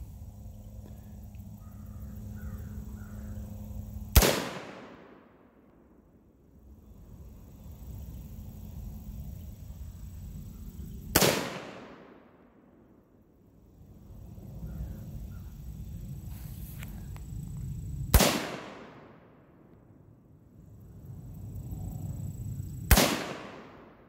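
Gunshots fired outdoors, four sharp loud cracks spaced about seven seconds apart, each trailing off into a rolling echo over quiet background noise.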